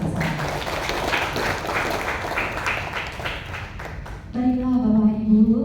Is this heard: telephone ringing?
no